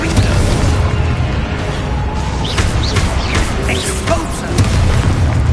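A Confringo blasting spell from a Harry Potter video game goes off as a loud, dense explosive boom. Crackling bursts and whooshing effects continue throughout, with a second surge near the end.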